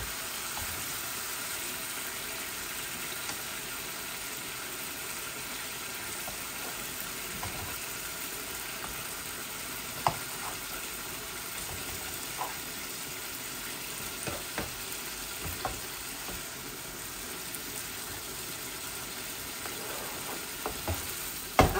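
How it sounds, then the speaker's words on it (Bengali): A pan of bean seeds and chital fish curry frying with a steady low sizzle while being stirred, faint scrapes and small clicks scattered throughout and growing a little busier toward the end. "আবারও আমি এটাকে একটু নাড়তেছি।"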